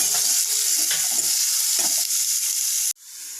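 Chopped onions sizzle steadily in a hot pan while being stirred until reddish for vada pav, a loud continuous hiss with soft scraping strokes, cutting to near silence just before the end.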